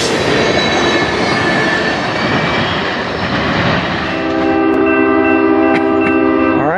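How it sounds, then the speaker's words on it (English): A CSX freight train rolls past at close range across the diamond in Fostoria, Ohio, with a loud continuous rumble of cars and wheels that gives way to a sustained, ringing horn-like squeal near the end. "CSX coming. Across the diamond."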